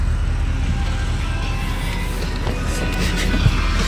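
Porsche Cayenne Turbo with upgraded diverter valves pulling away on a road, a steady broadband engine and road roar that holds at an even level throughout, close and continuous with no talk over it.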